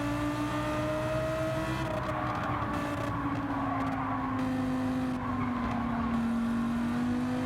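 A Ferrari race car in Gran Turismo 7 spins out with a sustained tire skid over a steady engine drone, the squeal and motor noise continuous and fairly loud throughout.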